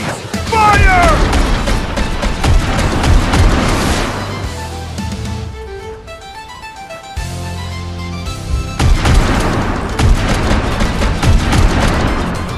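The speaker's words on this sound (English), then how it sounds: "Give them everything we've got! Then let's end this! All batteries, fire!" Heavy naval guns fire in the mobile game Warships Mobile, a warship's main batteries letting loose in a dense run of booming salvos that rage loud, ease off through a quieter middle with music, then return strongly.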